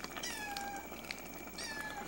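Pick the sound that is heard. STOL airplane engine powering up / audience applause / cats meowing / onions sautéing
cats meowing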